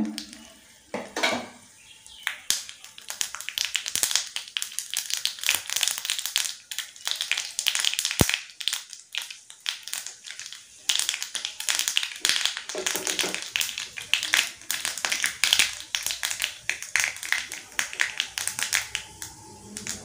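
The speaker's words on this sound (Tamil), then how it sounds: "நல்லா கடுகு பொரிஞ்சிருச்சு." Mustard seeds and salt spluttering in hot oil for a chutney tempering, a dense run of sharp crackles and pops that stays loud and busy throughout with a few brief quieter gaps.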